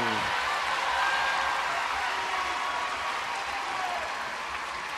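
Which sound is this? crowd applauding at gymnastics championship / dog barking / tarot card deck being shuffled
crowd applauding at gymnastics championship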